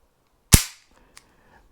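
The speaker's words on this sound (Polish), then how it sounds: "Nastąpiło zamknięcie zamka, został odsunięty kurek." A pistol with an external hammer snapping its slide shut after the slide release lever is pressed: one sharp, close metallic clack, followed by a faint small click.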